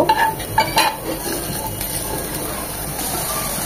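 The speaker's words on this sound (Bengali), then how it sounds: "এই তেলে দিয়ে দিব প্রথমে গাজরটা, কিন্তু গাজরটা একটু হার্ড, এটাকে 10 সেকেন্ড 20 সেকেন্ডের মতো একটু ভেজে নেব।" Diced carrots fry in hot oil in a pan, with a soft, continuous hiss and several close, clattering stirs of a utensil against the pan near the start.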